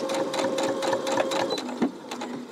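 A sewing machine stitches a quilted key fob with a steady, close, continuous mechanical whirr that eases slightly near the end.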